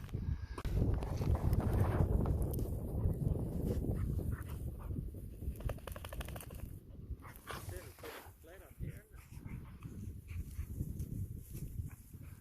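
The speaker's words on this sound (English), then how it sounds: "Bit of wind coming through." Wind gusts roughly across the microphone on a mountain traverse in the Kaimanawa and Kaweka ranges, a steady heavy rumble throughout with faint background sounds.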